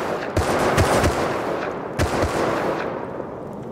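Tommy gun firing during a base raid in a survival video game, loud close bursts of rapid automatic fire with a brief pause between them, heavy and booming.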